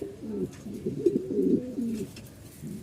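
A male pigeon coos up close, with low, rolling, throaty coos that swell and repeat in a steady rhythm against a quiet background.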